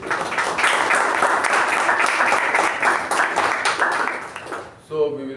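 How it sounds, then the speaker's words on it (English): A crowd claps steadily for several seconds, dense and sustained, before the applause dies down and a voice starts to speak. "let's give a big round of applause for the group."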